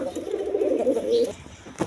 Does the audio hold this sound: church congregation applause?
no